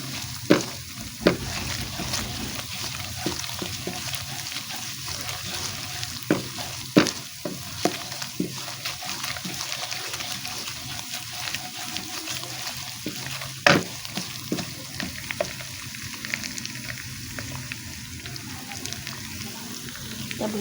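Ginger and garlic frying until browned for a village-style sabut mash and chana daal, a steady sizzle under intermittent stirring with a few sharp clinks of a spoon against the pan, no voices.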